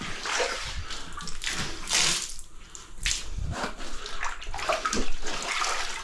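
Water splashed and sprinkled by hand across a dusty floor ahead of troweling tile glue slurry, a run of close, irregular splashes and patters filling the stretch with no talk.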